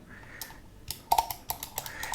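A Timemore C3 or Comandante C40 Mk4 hand coffee grinder being adjusted gives a quick run of small, sharp, close clicks that start softly and come in several clustered bursts.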